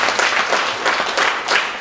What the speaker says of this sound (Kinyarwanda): Amashyi menshi kuri C24.